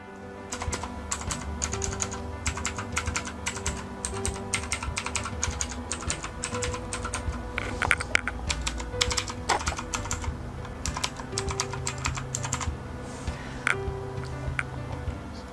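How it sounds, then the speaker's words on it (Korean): Rapid clicky typing on a mechanical numeric keypad with Outemu blue switches, crisp sharp keystrokes in bursts and runs, close and fairly loud, with no talking. "현재 장착되어 있는 건 오테밀 청축이기 때문에 경쾌한 소음이 납니다."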